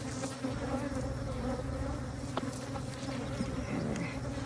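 Honey bees buzzing at an opened hive, a soft, steady swarm hum of many wings filling the air with small fluctuations and no talking.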